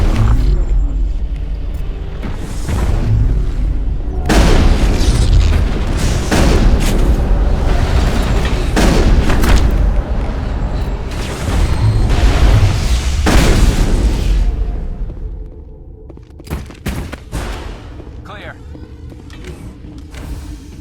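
Heavy booms, blasts and roaring gunfire from a Mass Effect 1 cutscene battle against Geth, loud and dense in surging waves for about fifteen seconds, then thinning to sharp scattered bangs and clatter.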